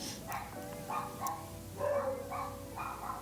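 Several dogs bark and yip in the background of a home, with repeated barks in uneven bursts at moderate volume over a steady room hum.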